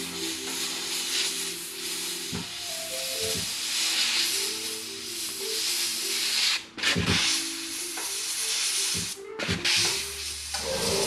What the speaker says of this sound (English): These are by Badger. They're called the Omni 3000s, but it's not the only good airbrush out there.